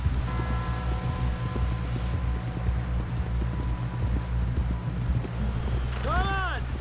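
Horse hooves clip-clop at a steady walking rhythm in the video game Red Dead Redemption 2, moderately loud over a low ambient drone, with a brief tonal call near the end.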